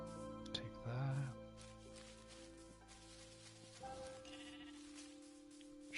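Sheep bleating in the Minecraft video game, one clear wavering bleat early on, with background game music and a voice talking.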